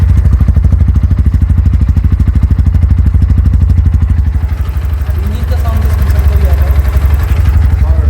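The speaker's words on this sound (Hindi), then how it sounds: "तो पहले सुनते हैं हम NS 160 का एग्जॉस्ट साउंड कैसा लगता है ऑन करने के बाद" A Bajaj Pulsar NS160 with an underbelly exhaust idles close by in a steady, rapid low-pitched thrum with a faint mechanical clatter. The note dips and wavers slightly near the middle, and a voice speaks briefly beneath the engine.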